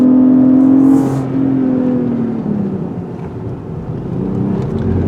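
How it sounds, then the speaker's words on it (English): A loud, deep exhaust growl from a 2020 Lexus ES 350 F Sport in Sport Plus mode rumbles steadily throughout, swelling slightly at the start and again near the end, with no talking. "When you put the vehicle in the Sport Plus mode, the exhaust lets out a very loud growl."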